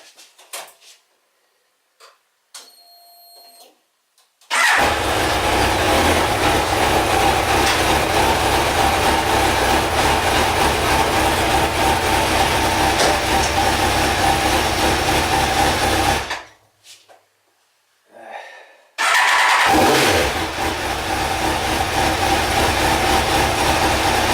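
A car engine cranks and catches, then runs at a steady, loud idle close by. It cuts out briefly and starts again, with no talking over it.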